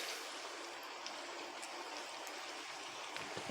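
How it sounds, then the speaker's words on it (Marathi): French fries half-frying in hot oil over a medium flame, a steady, even hiss and fizz of bubbling with faint crackles, alone with no talk. "आपण यामध्ये हे फ्रेंच फ्राईज म्हणजे फिंगर घालणार आहोत आणि आपण आधी हाफ फ्राय करणार आहोत अर्धवट तळून घेणार आहोत"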